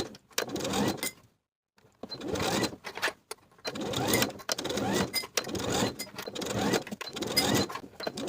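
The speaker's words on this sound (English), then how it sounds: "Now I can sew my first tier to the bodice all the way around with a 1/2 inch seam allowance" A sewing machine stitches a dress tier to its bodice in a series of bursts of rapid mechanical whirring, pausing between runs with a longer quiet gap early on.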